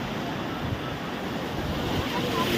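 Ocean surf rolling onto Puri beach, a steady broad wash of breaking waves with wind buffeting the microphone throughout.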